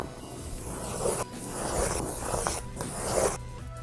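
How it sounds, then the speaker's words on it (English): Printed 11 by 17 paper is trimmed to cut away white space, a steady rough scraping and slicing rustle that comes in several strokes with short pauses between them, close and moderately loud with no talking. "we're just going to trim off the white space around it"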